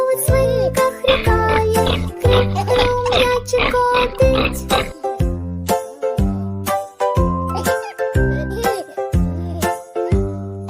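A cheerful children's song with jingles, where singing voices imitate a pig's grunting oinks in a bouncy rhythm.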